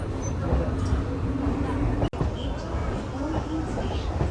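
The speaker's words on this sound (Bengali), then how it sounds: "ট্রেনটি এই জায়গাটিতে খুব সুন্দর একটি কার্ভ নিচ্ছে" An ICF-coach Bengal local train on the Kalinarayanpur to Shantipur line rumbles steadily as it takes a curve, a continuous low rolling noise heard from inside with a voice talking over it throughout.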